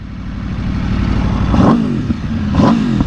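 A 2023 Aprilia RSV4 engine roars loudly and close by, with a rough, throaty rumble that swells into two sharp revs, each rising and falling over about a second.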